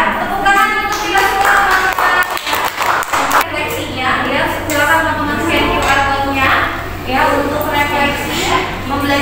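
A short burst of group clapping rings out in a classroom lesson, lasting a couple of seconds before fading, with a teacher talking before and after it.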